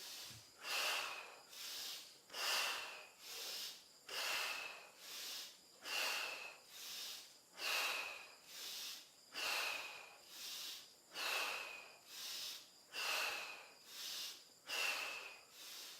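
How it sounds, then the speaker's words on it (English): Deep, slow breaths during a guided breathing exercise, about nine long hissing inhale-exhale cycles in an even rhythm, close and fairly soft, with no talking. "Deeper breathing."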